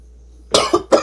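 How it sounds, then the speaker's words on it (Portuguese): Three sharp coughs close up after a moment of quiet, from water going down the wrong way, the first burst longest, followed by two quick harsh hacks. "Peguei uma crise de tosse porque a água desceu direto"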